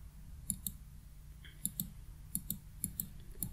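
A computer mouse double-clicking while working in AutoCAD: faint, crisp clicks in quick pairs, repeated about five times at a steady pace over a quiet background hum.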